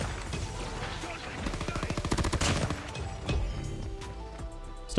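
A PPSh-41 submachine gun in Call of Duty fires in rapid, evenly spaced bursts, strongest in a long rattling volley midway, with scattered single impacts and game noise around it and someone talking over it.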